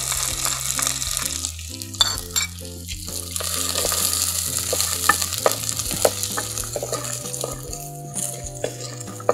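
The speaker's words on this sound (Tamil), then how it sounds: "வெங்காயம் போட்டுக்கலாம், சின்ன வெங்காயம்." Small onions (shallots) fry and sizzle in a pan while being stirred, a steady close crackle with scraping strokes and clinks, in a drumstick-leaf curry preparation; background music plays throughout.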